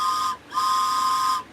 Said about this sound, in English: I got another whistle right here